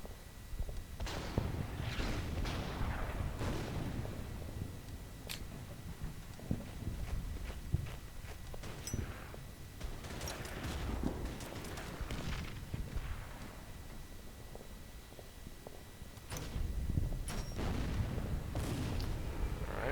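Artillery under aerial bombing in the World War II strategy game Blitzkrieg, with repeated low explosive booms and thuds arriving in irregular bursts over a continuous rumbling battle background.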